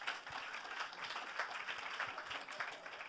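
Faint, dense audience applause at an evening event at the Grammy Museum in Los Angeles. The clapping is a continuous, distant-sounding wash with no distinct voices.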